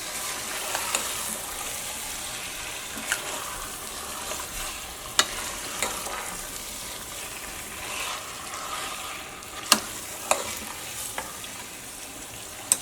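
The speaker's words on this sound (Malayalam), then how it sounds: "ഇനി നമുക്കിതെല്ലാം കൂടിയിട്ട് അങ്ങോട്ട് മിക്സ് ചെയ്യാം." Chicken pieces being turned into curry gravy in a cooker, a continuous frying hiss with intermittent spoon clinks and scrapes against the metal, close and steady, no voices.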